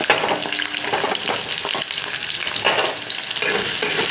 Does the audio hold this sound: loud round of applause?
no